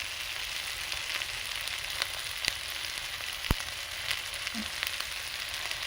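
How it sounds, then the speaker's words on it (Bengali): Spice paste with turmeric and salt frying in a pan for a chicken liver and gizzard dish, a soft continuous sizzle broken by a few sharp stirring taps. "ভালো করে মশলাটা কষিয়ে নেব"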